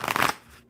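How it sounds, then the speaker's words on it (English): A deck of tarot cards is riffle-shuffled once, a brief crisp flutter of cards that fades quickly into quiet. "one more good shuffle because I apparently cannot hold on to them."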